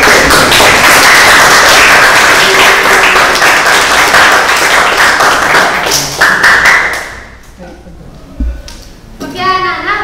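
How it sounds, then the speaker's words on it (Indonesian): A class of children at a school lesson claps together for about seven seconds, a dense burst of applause with taps and thumps, then it fades and a voice speaks at the end. "Oke, boleh beri tepuk tangan dulu"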